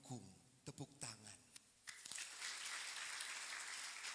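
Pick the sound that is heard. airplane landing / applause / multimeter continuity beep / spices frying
applause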